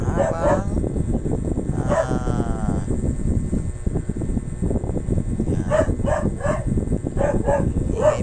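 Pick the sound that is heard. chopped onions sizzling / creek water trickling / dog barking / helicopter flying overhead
dog barking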